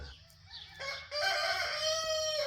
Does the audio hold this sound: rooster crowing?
yes